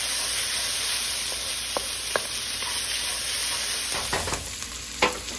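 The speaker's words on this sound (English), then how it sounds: "I'm just sauteing my vegetables." Onions and mushrooms sauté in a pan for a teriyaki stir fry, giving a steady close sizzle with a few light clicks of a stirring utensil and no talking.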